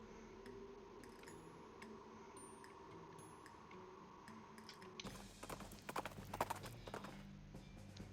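Horse hooves clip-clop in the video game West of Loathing, a faint steady rhythmic trot over a quiet musical background, then a louder burst of clattering near the end.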